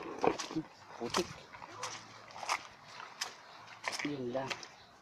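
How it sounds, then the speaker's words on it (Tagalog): A dog outdoors gives a few short barks and whimpers spread across a few seconds, mid-distance, mixed with people talking nearby. "Kanino yan aso?"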